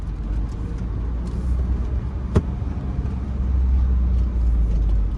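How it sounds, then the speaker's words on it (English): A car driving behind on a street in Kensington, Philadelphia: a steady low engine and road rumble that swells slightly louder toward the end, with a single sharp tap midway. "I got a car behind me and I wasn't even paying attention"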